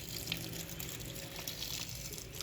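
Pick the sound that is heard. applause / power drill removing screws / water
water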